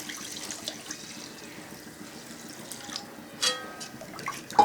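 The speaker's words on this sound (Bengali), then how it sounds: "এখন দিয়ে দেব জল" Water poured into stirred masoor dal in a pot, a soft splashing trickle with small liquid swirls and a few louder splashes near the end, close and fairly quiet.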